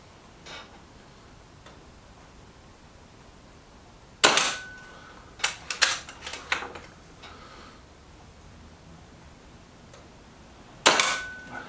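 A Kral Puncher Knight Walnut air rifle fires H&N Barracuda 18 grain pellets at a target, giving two sharp, isolated cracks several seconds apart with a few fainter clicks and knocks between them in otherwise quiet surroundings.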